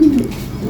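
A young pigeon of the Ceko Semut Merah line gives a single short, low, throaty coo, close and fairly loud.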